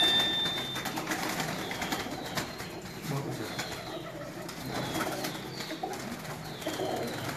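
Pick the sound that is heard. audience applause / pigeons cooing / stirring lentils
pigeons cooing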